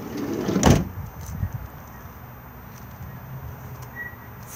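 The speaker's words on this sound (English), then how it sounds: "we'll firstly come to the driver's side sliding door. This can be opened to add extra ventilation to the van." Driver's side sliding door on a Randger 499 camper van, a single loud slide and thump near the start followed by a smaller knock, then quiet outdoor ambience.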